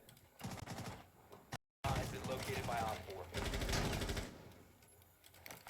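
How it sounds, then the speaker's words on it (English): Rapid bursts of automatic gunfire in a Rainbow Six college esports match, crackling in clusters with a short gap between them, while an excited commentator talks over the shots. "You see gunfire."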